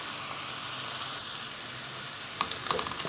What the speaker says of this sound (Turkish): Salçamızın kokusu çıkana kadar onu da güzelce kavuracağız.